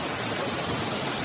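Strong rushing current of water at Nabaroto Falls, a steady broadband roar that stays loud and unbroken throughout.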